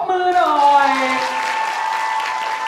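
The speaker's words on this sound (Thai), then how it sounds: "เอาปรบมือหน่อย" An audience claps at a first solo fan meeting in Thailand, a steady spread of applause heard under a drawn-out voice that fades as the clapping continues.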